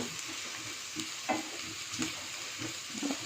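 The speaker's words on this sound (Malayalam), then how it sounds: "ഉരുളക്കിഴങ്ങിട്ട് നമുക്കൊന്ന് വഴറ്റാം" Potato pieces sauté in a pressure cooker for vegetable pulao with a soft continuous sizzle, broken by a few light spoon scrapes against the metal, close but fairly quiet and without voices.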